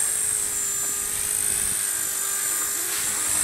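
A Walkera 4G3 double brushless micro RC helicopter hovers outdoors in a headwind, its steady high-pitched whine continuous and fairly loud against light wind noise.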